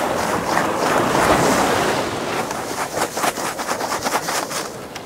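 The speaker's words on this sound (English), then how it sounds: "you wait for a wave, and you get the sand out of it" Ocean waves washing onto a beach at low tide, a loud broad rush of surf with wind buffeting the microphone, then choppier splashing toward the end.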